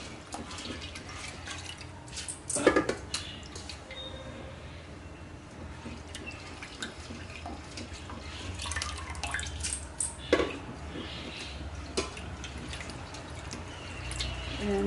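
Kavuni rice is rinsed in water by hand, a third wash, giving soft close sloshing, trickles and scattered drips at a low level.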